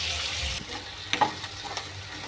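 Finely chopped onions sauté in oil for a green chili and curry leaf chutney: a hissing sizzle that drops in level after a moment, then a few sharp spatula scrapes and stirs close by.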